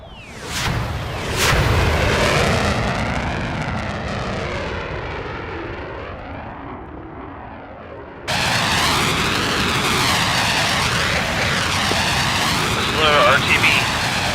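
F-14B jet engine roar in the DCS flight simulator, a loud steady broadband rumble and whine that dips slightly, then surges back abruptly and continues strongly to the end.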